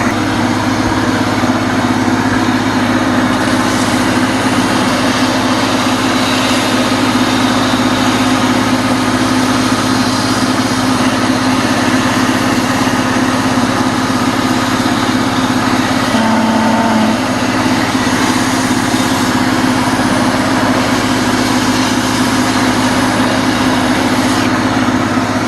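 A homemade belt sander driven by a salvaged treadmill motor runs continuously at speed, a loud, steady whirring drone with a constant tonal hum and no breaks, no voices over it.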